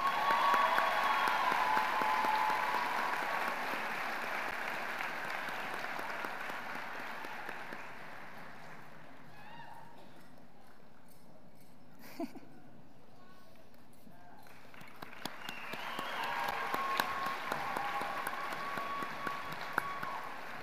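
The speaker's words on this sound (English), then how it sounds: "Everybody, round of applause as they come up stage," Graduation audience at Forsyth Central High School clapping as students come up onto the stage: a broad round of applause that fades to a sparse lull with scattered claps, then swells again near the end.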